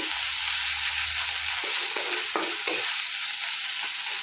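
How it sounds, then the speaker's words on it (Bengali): Spices for yogurt katla fish curry crackle and sizzle steadily in oil in a pan while a spoon stirs and scrapes now and then, close up with no talking. "এটা একটু ভাজা হবে।"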